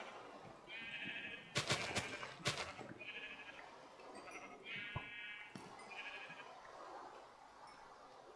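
Sheep bleating in Minecraft, several short nasal bleats spaced across the scene at low level, mixed with a few clicks and thumps of gameplay.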